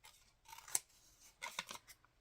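Scissors cut paper in a few quiet, close snips, with two short bursts of crisp slicing separated by a pause.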